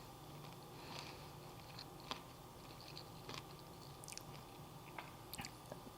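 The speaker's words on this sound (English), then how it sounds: "I love the crunch of the seeds." Crunchy seeded bread being chewed close up: quiet, uneven crunches and bites scattered over a soft background hiss, with no talking.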